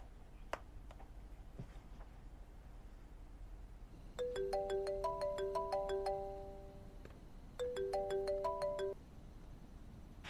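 A mobile phone plays a chiming melodic ringtone in two clear rounds with a pause between them, standing out over a quiet room with a few faint clicks and no talking.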